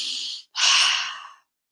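A long breath out through the mouth during a guided belly-breathing exercise, airy and close, framed by short gaps of silence before and after.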